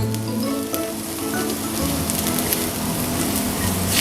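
Garlic fries in a hot pan with a bright, continuous sizzle and crackle, close and fairly loud, steady with small pops and no talking.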